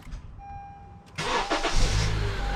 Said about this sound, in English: first I'm going to start up the engine